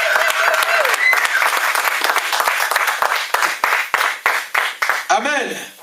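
A church congregation claps and cheers in acclamation of Jesus Christ, dense applause filling the room that breaks into sharper rhythmic claps toward the end, with a voice rising near the close.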